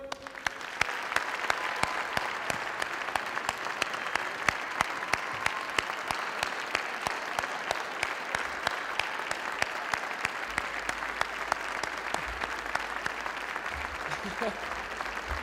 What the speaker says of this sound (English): please join me in a round of applause for our Chancellor-elect